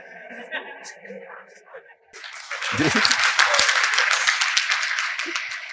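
Someone talks to an audience at a motivational talk, and then a crowd bursts into sustained clapping that holds steady for several seconds.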